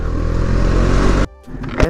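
A BMW S1000RR superbike engine drones loudly while riding, a steady rumbling roar that suddenly drops away near the end before a brief sputter returns.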